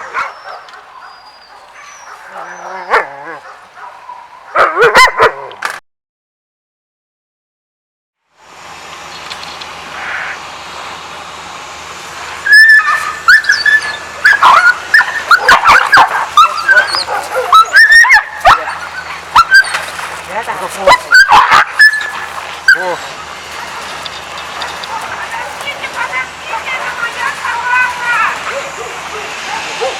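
A stray dog barks and whimpers in the street in Yakutsk while being caught by dog catchers, with sharp yelps and barks in bursts. People talk over and between the barking, and there is a short gap of silence early on.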